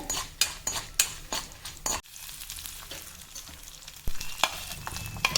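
Urad dal frying and sizzling in a pan, with a spoon scraping and clinking against the metal in repeated close strokes over a steady hiss.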